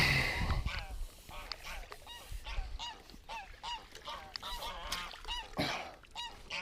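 Geese honk repeatedly in a noisy flock, calls overlapping in quick bursts with some faint voices mixed in.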